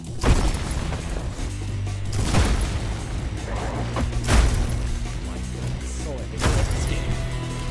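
Double shotgun blasts in the video game ULTRAKILL, several heavy booming shots spaced a couple of seconds apart over a pounding game soundtrack, with someone talking excitedly.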